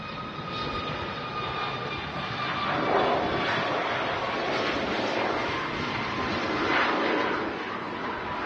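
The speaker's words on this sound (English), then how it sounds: "Taxiing down the runway. Malta is on the roll." A jet airliner bound for Malta rolls down the runway for take-off at Manchester Airport, a steady distant roar that swells and eases slightly without let-up.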